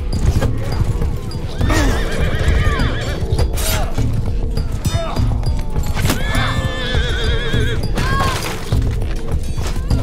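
Horses neigh and hooves clatter amid a 60-versus-60 multiplayer siege battle in Bannerlord, with repeated loud whinnies over a dense din of galloping and combat clashes close by.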